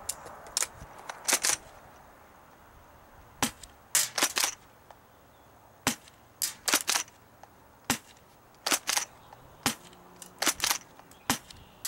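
Bravo Multi-shot Tri-shot airsoft shotgun slam-fired in rapid bursts, sharp loud cracks landing in irregular clusters of two to four over a quiet background, with no talking.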